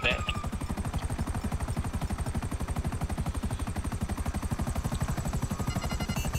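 A helicopter's rotor chops steadily in a fast, even rhythm, loud and close, with a faint voice briefly audible at the start, in the video game Grand Theft Auto V.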